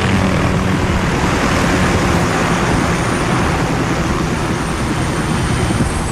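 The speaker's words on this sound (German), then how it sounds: "Barkov schickt Helikopter." Helicopters in the video game Call of Duty Modern Warfare give a loud, close, continuous roar that fills every moment without a break, with no talking.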